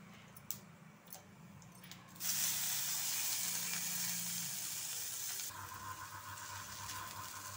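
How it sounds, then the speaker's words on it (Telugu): Hot tempering for a broad bean curry hits the pan and bursts into a loud, dense sizzle that holds steadily, then drops to a gentler crackle near the end, with a few light clinks before it starts. "ఇదిగోండి కూర పోపు కూడా వేసేసుకుంటున్నాను,"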